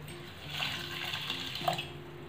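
Water is poured into a pot holding powdered palm jaggery, making a steady splashing pour with light gurgles and no voices.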